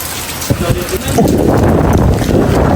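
Strong wind roars steadily with rain and rough surf at a seaside resort in Camarines Norte during stormy weather, a dense continuous rush with gusts buffeting the microphone.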